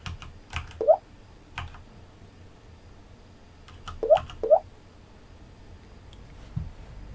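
Scattered keystrokes on a computer keyboard during a PC maze game, a few isolated clicks and short clusters of taps separated by quiet gaps, close and crisp.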